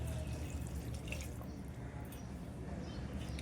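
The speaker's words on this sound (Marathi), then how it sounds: "त्यामध्ये आता मी वाटणाचं हे पाणी उरलेलं ना ते टाकते आहे." Leftover ground-masala water pours and splashes steadily into a pan close up, a continuous wet trickling with a few drips and no talking.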